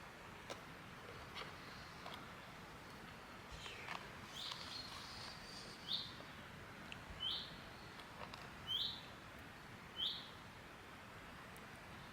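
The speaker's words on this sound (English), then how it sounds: "Nice hearing the birds sing." Birds sing in a quiet wilderness setting, a short chirping call repeated four times at fairly even intervals, faint and somewhat distant over low background hiss.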